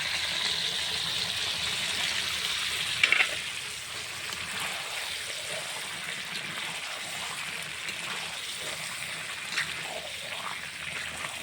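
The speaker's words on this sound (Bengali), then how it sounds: "কাঁঠালটা ঢেলে দেবো" Jackfruit curry frying in hot oil in a pan, a steady broadband sizzle with a brief clatter near the start, continuous and fairly close with no voice over it.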